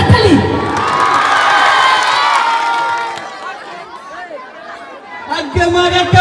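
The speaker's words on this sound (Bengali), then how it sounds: "জোরে হাততালি" A large crowd at a live stage event cheers and shouts loudly, swelling at first, easing off midway, then bursting up again near the end, with some clapping likely mixed into the roar.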